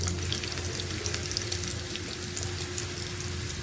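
Chopped garlic sautés in a hot pan with oil, giving a close, steady crackling sizzle that continues without a break.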